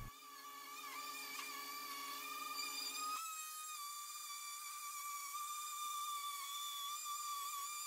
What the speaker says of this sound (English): I used a surfacing router bit, taking multiple passes, to get to my desired depth.